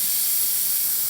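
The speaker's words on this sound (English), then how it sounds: "this is the steam from here" Steam wand of a La Pavoni Europiccola espresso machine venting, a loud, steady, bright hiss held without a break, close up and with no voices over it.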